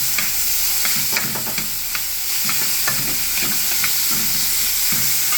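Garlic and chicken sizzle in a hot pan with steady frying hiss, punctuated by repeated scraping and stirring knocks as the pieces are tossed around, close and alone.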